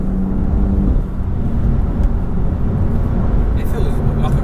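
A 2017 BMW M4 CS engine and exhaust hum at a muted, steady drone from inside the cabin while driving, with road rumble underneath and no clear revving peaks.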